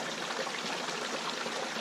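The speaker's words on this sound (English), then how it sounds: "I then use some barbecue lighting fluid. I tend to put that down the bottom." Barbecue lighting fluid poured onto kitchen roll at the base of a Swedish candle log stove, a steady close trickling stream with no break for the whole stretch.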